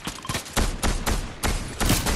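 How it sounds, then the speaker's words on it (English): A combat shotgun in a video game fires a string of heavy, booming blasts at an uneven rhythm of roughly six shots, loud and close, with no talk over them. "I shot him with the combat shotgun"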